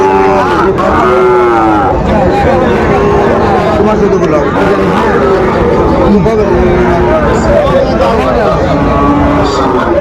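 Sahiwal bulls and calves at a busy cattle market moo loudly and repeatedly, overlapping with a constant crowd babble and nearby talking voices throughout.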